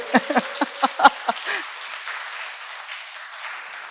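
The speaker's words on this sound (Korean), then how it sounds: "다시 한번 박수 주세요" A short burst of audience clapping at a lecture concert with a string quartet, a handful of sharp claps in the first second and a half that quickly fades to quiet room tone.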